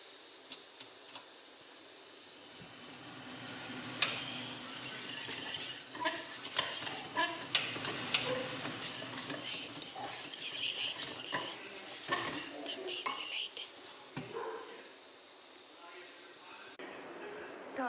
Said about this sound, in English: You have to mix it nicely.